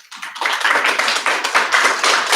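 Audience applause at a city council meeting, a steady, dense wash of many hands clapping that rises quickly and holds at full strength for a couple of seconds, with no talking.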